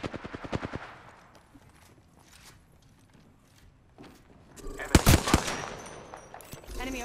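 Rapid automatic gunfire in a tactical shooter game: a quick burst of shots opens, a lull of quieter rustling and movement follows, then a louder, denser volley erupts near the end.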